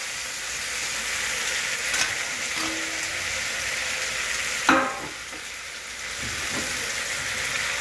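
Vegetables for a curd-based bori curry stirred in a pan, a steady frying sizzle filling the kitchen with a few spoon scrapes and a sharper clatter near the middle.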